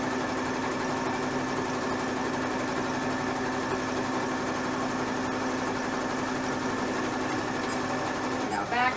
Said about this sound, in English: I'm sewing everything with the right sides together